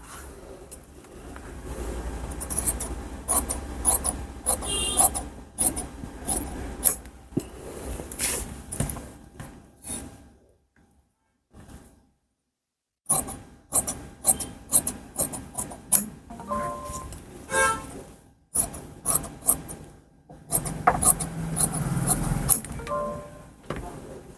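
Blouse fabric being cut with scissors during tailoring, heard as close, repeated rasping snips in quick bursts with short pauses and one longer silent gap midway.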